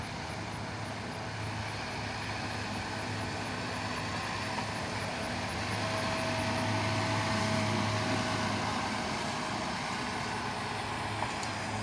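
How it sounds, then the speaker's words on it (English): A Sperry high rail truck cruises slowly along the tracks testing the rails near a railroad bridge, a steady low engine drone and faint rolling hum held evenly throughout, moderately distant, with no voices. "A Sperry high rail truck. Cruising slowly and testing the rails."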